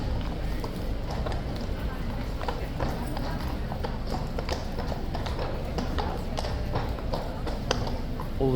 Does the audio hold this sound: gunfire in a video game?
no